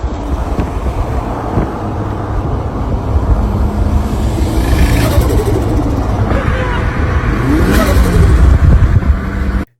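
A Nissan 240SX engine revs in steady, sustained bursts under mild wind buffeting, holding loud throughout before cutting off at the very end.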